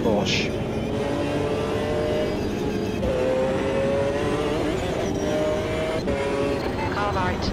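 Porsche race car engine in the racing game Automobilista 2, a loud continuous drone rising in pitch through the gears with brief shift dips, steady and close throughout, with a voice talking over it.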